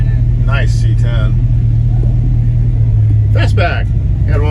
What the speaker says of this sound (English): Here comes that nice red Chevelle. It's out rolling.